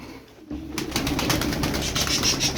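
Tumbler pigeons coo in a steady, throaty murmur nearby, with a brief lull before the cooing swells.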